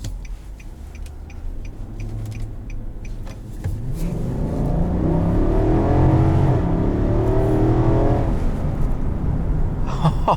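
A 2020 Nissan Armada SL SUV with about 400 horsepower accelerates hard from inside the cabin, engine note building into a loud, steady rising roar after a quieter idle-like start.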